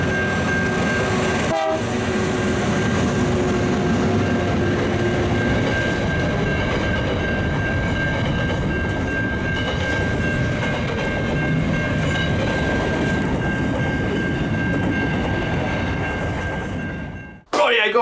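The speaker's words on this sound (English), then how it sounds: "Here comes the train." A train passes close by with a loud, steady rumble and rattle of wagons for most of the span, and a sustained horn tone runs through it before the noise cuts off abruptly near the end.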